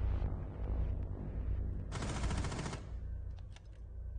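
Gunfire fired through a wall in a 3v3 tactical shooter match comes as one brief, fairly quiet rapid burst in the middle, set against a low steady game hum.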